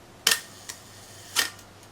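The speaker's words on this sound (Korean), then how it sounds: "빠르게 찍히면 착칵 이렇게 찍히겠지만 예를 들어 1초 동안 찍히게끔 할 수 있어요." A camera shutter fires for a 1-second exposure. A crisp mechanical click is followed about a second later by a second click, with a faint tick between them, all close and clear in a quiet room.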